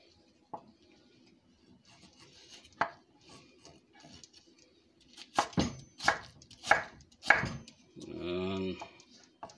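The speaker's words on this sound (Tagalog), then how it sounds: "You can use julienne cut if you know the technique of julienne cut." A knife chops potatoes in a home kitchen, giving a few isolated taps early on and then a quick run of four or five sharp, close chops, with a brief voice at the end.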